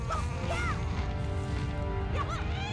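A bleating, sheep-like cry from a sheep bird (seagull) in the video game Wind Waker, two wavering calls over steady background game music.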